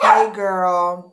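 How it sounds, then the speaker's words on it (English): A dog lets out a drawn-out whining yip, high and tonal, close to the microphone, while someone talks over the start. "Excuse my dog."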